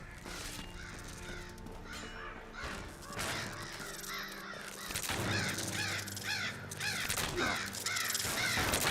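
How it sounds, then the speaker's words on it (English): Crows caw repeatedly as birds attack a character in the video game Skyrim, with harsh overlapping calls close by, growing louder and busier toward the end over a low game background. "Oh, the birds are attacking him."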